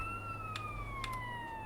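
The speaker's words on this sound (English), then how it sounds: "The sirens, it's not just for fun." Wailing ambulance siren from GTA San Andreas Definitive Edition, two steady sweeping tones gliding slowly downward with a few short bursts over a constant low engine drone, loud and close.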